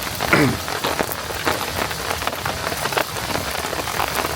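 Steady rain patters on a forest campsite, a dense continuous hiss of drops striking nearby surfaces with scattered sharper splats, close and fairly loud, with no voices.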